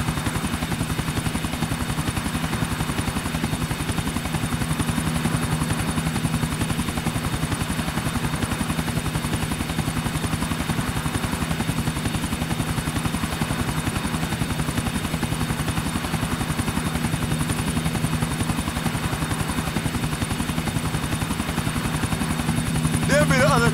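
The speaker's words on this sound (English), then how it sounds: "There be the other chopper." Helicopter in the video game GTA 4, a steady loud rotor and engine drone with a strong low rhythmic chop running throughout, while game dialogue plays over it.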